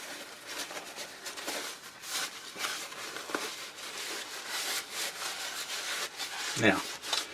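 Paper towels soaked with WD-40 rub and wipe over a lathe tailstock in close, irregular scrubbing strokes, fairly quiet, with a short clunk near the end.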